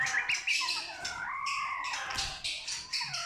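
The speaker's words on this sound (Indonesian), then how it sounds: "Murai batu medan ya." A white-rumped shama of the Medan type sings a rich, varied song of whistles, chirps and rapid trills, close and loud, filling the whole stretch without pause.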